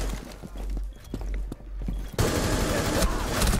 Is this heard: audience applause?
no